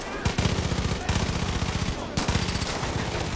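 Rapid automatic gunfire in Far Cry 5, set in Hope County, with three loud sustained bursts of machine-gun shots in quick rhythm.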